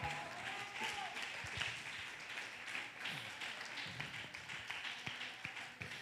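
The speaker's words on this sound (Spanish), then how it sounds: "Dale un fuerte aplauso al Señor" A congregation claps together during a church worship service, producing a steady wash of applause with sharper taps scattered through it and faint voices underneath.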